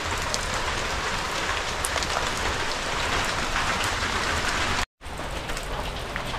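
Steady rain falls and patters hard on surfaces around a house under repair, a loud constant hiss that continues throughout with one brief break and no talking.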